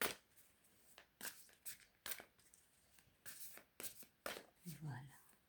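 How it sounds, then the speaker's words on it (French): Oracle cards being shuffled by hand in a series of quick, soft riffling bursts at a steady rhythm, close and fairly quiet, with a brief murmur of speech near the end. "On va brasser, mélanger les signes"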